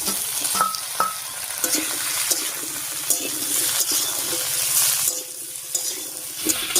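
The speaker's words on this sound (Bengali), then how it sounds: "সব সবজিগুলো দিয়ে একটু নাড়িয়ে নিয়েছি" Potato, aubergine and yardlong beans frying in a pan for a dried fish dish, with close, loud stirring scrapes and knocks over a steady sizzle; near the end the frying quiets briefly before the stirring picks up again.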